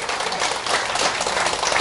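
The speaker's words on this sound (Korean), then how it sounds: "세종대왕을 위해서 박수 한번." Steady applause from a crowd, a dense, even wash of many hands clapping for the whole stretch with no talking over it.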